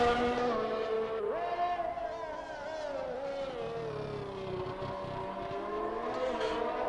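Formula 1 race car engine in a racing video game at the Bahrain circuit, a steady high-pitched whine with rising and falling pitch sweeps as it shifts through gears, continuous and fairly loud throughout.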